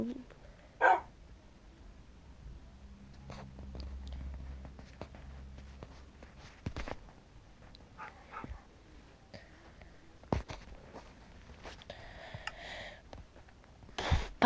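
Dogs in the Minecraft video game bark in scattered, sharp single yaps and short whimpers, with soft footsteps and light shuffling between them over a quiet background.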